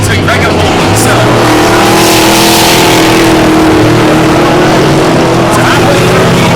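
Eight-cylinder race cars circling a track mid-race, a loud continuous roar of engines with shifting pitch as cars pass, under a commentator's voice.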